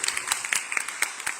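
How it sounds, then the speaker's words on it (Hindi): Audience applause at a devotional gathering, a dense, steady patter of many hands clapping close by for about a second and a half, with no speech over it. "ये क्या मरी मरी सी तालियां हैं"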